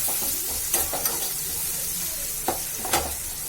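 A little chopped tomato sautéing in a hot pan of tempering, with a loud, close, continuous sizzle broken by several sharp scraping stirs.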